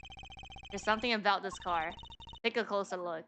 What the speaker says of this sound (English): Oh, that's a phone?